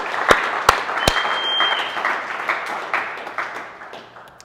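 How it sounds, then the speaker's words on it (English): Audience applause at a company all-team monthly update, a steady crowd of clapping for award winners with a few sharp close claps near the start, tapering off toward the end. "One more round of applause for you guys."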